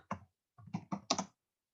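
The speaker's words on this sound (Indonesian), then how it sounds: "Kita ketik ya." Several short bursts of key clicks on a computer keyboard, grouped into quick clusters with brief pauses between them, fairly close and clear with no talking.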